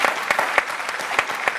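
A studio audience applauds a guest on a French radio show, a dense, steady patter of many hands clapping with a few sharper individual claps standing out, close and fairly loud with no voices.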